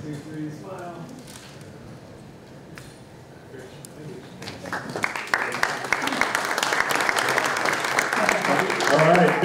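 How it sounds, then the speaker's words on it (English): Applause for a Massachusetts tree city award recipient builds from quiet room noise into steady, growing clapping from an audience at a recognition ceremony, rising over the last five seconds. "big round of applause"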